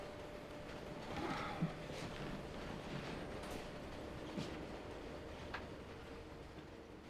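A night train in a TV drama scene rumbles along at a distance, with a low continuous roar and a few faint clacks and squeaks rising briefly above it.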